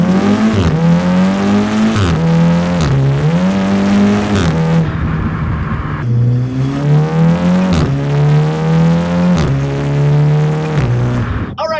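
A Golf R with a stage 2 downpipe exhaust revs loudly and repeatedly, its engine note climbing and falling in steady waves with a brief dip midway, close and dominant throughout.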